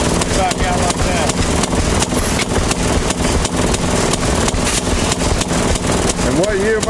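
The original motor of a 1926 Maytag washing machine runs with a loud, steady, chugging hum that holds for the whole stretch, while people talk over it.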